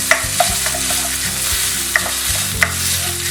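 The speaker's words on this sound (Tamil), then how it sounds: "இப்போ இந்த இஞ்சியை வந்து நான் வந்து இந்த எண்ணெயில போட்டு வதக்கிக்கிறேன் கொஞ்சம்" Grated ginger sautés in oil in a kadai, giving a steady close sizzle with stirring scrapes and a few sharp spoon taps, no talk.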